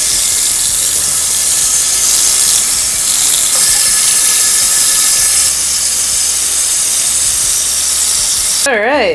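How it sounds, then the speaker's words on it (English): Running water rinses cyanotype chemical out of fabric, a steady loud hiss and splash from a tap throughout, with a brief voice near the end. "And now the last step is to rinse away our Cyanotype chemical."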